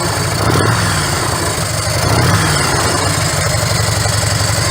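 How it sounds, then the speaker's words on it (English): A Harley-Davidson Road King motorcycle engine idles close by, a loud steady low rumble with an uneven loping pulse that keeps going without a break. "It's got that distinctive Harley Davidson sound"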